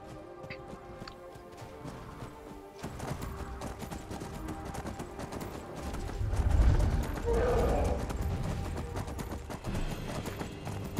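Horse hooves clip-clopping along a road in the video game Skyrim, a steady rhythmic trot that grows louder and busier midway, heard at moderate level with faint game ambience.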